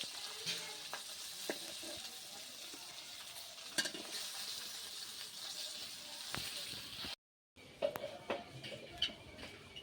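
Rohu fish pieces fry in a pan of oil, giving a continuous close hiss and sizzle with scattered crackles and utensil clinks, briefly cutting out near the end, with no one talking.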